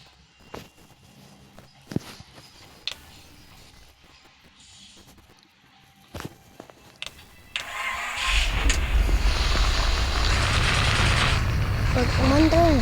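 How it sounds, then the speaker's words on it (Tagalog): A car engine cranks and catches after quiet handling noises and a few clicks and footsteps, then settles into a steady loud idle, with voices heard. "Start the engine."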